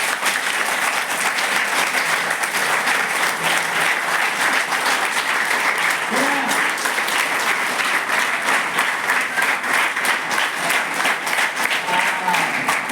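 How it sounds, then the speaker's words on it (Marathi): A large audience of students at an event in Ashti Walgaon claps loudly for their mothers, a continuous, dense roar of hands lasting the whole stretch, with faint voices mixed in beneath the applause. "जोराने आपल्या आईसाठी टाळ्या वाजवा"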